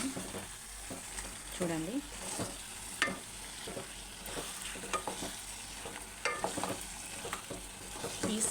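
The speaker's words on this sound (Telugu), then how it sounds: "కొద్దిగా ఫిష్ నూనెలోనే వేగాలి." Fish pieces fry in oil for a Telugu fish pulusu, giving a steady crackling sizzle with intermittent stirring clinks and scrapes. A voice speaks briefly over it.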